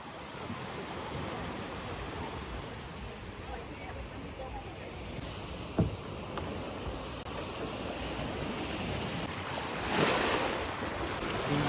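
Sea waves wash onto a beach in Beldibi, Turkey, as a steady broad surf hiss with wind noise on the microphone and one brief knock midway.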